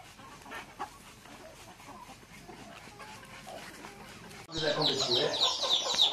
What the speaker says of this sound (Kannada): ಇದು ಮರಿ ಕೋಳಿಗಳು, ಕಾಲಿಂದ ತೆಗೆದಿರೋದು 2 ಕೋಳಿಗಳು ತೆಗೆದಿದ್ದೀವಿ